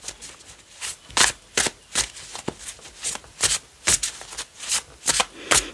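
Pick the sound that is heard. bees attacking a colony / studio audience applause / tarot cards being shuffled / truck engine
tarot cards being shuffled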